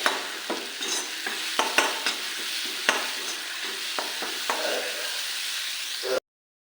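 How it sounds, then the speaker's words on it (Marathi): Masala stirred and fried in oil for village-style stuffed brinjal, a steady close sizzle broken by repeated sharp scrapes of a spoon against the pan, with no talking. "आता हा मसाला आपल्याला तेल सुटेपर्यंत भाजायचा आहे"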